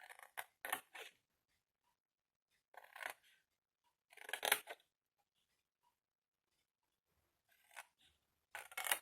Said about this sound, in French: Vous allez couper bien droit tous les petits carrés.